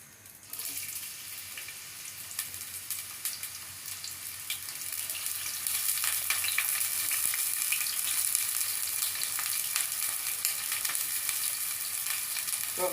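Hot oil frying and sizzling in a pan while making Mughlai biryani, a steady bright hiss that swells and grows louder partway through, with faint clinks, no talking.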